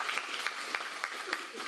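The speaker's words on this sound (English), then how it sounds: "Y'all, give a round of applause for TJ." Audience at a city council candidate forum in Galveston applauding, a faint, continuous patter of many hands clapping at a distance with a few sharper claps standing out.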